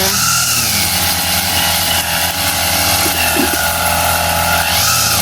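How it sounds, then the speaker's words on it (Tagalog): A grass cutter trims overgrown grass near a roadside, its engine droning loudly and steadily at close range without a break. "Dito na po siya nagagrass cutter."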